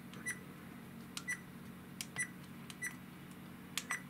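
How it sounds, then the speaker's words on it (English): A quiet series of short electronic beeps from a Crosstour CT9000 4K action camera menu, about five in all, spaced unevenly as buttons are pressed, with faint clicks between them. "as I'm going up and down the options, you can hear it beeping."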